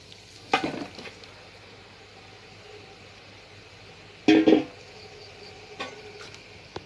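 Marinated chicken pieces frying in a pan give off a steady low sizzle, broken by two louder clattering bursts as they are flipped, plus a fainter scrape near the end.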